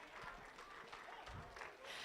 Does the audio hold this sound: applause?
yes